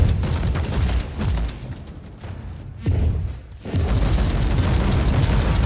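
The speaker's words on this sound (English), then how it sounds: "guys equipped with a flamer, actually do explode in a wonderful, good and" Flamer-equipped enemies blow up in the video game Warhammer 40,000: Inquisitor, with repeated heavy booming blasts and a crackling roar, loud, with a brief lull near the middle.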